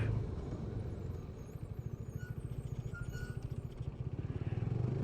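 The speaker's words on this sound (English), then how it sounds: "Now let's talk about the sound of the bike." A 2017 KTM RC 390 motorcycle engine rumbles steadily nearby, with a rapid pulsing throb that quickens slightly toward the end and no talk over it.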